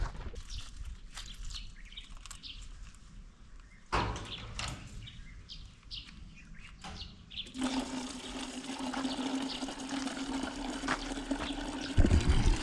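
Water from a coin-operated filter station pours into a jar, a steady gushing stream that starts partway through and continues loudly, with faint background chatter and birdsong before it.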